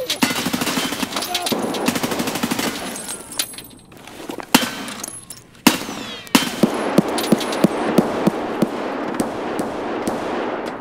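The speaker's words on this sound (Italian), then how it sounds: "Ma chi è sto qua che spara" Gunfire in the shooter game Escape From Tarkov on the Factory map: loud, close bursts of rapid automatic fire with sharp single shots mixed in, continuing for several seconds, with voices talking underneath.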